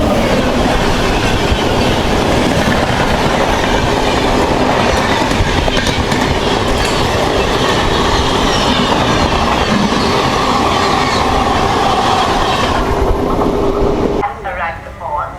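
Passenger train 17248, running from Dharmavaram to Narasapuram, rumbles and clatters loudly along the rails in a continuous roar with rhythmic wheel clicks. Voices murmur beneath it, and the noise drops away abruptly near the end.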